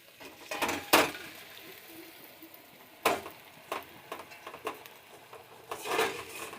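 Chowmein being stirred and tossed in a pan, with intermittent sharp metallic clanks of a utensil against the pan and soft scraping in between, close and fairly quiet.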